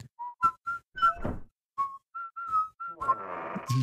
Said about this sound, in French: Mais c'est qui siffle? C'est Luigi?